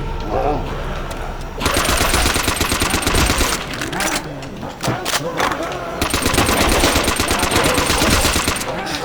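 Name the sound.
machine gun fire in video game World at War Zombies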